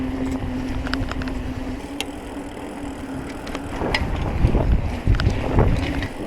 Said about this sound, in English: Sorry if it's a little bit windy.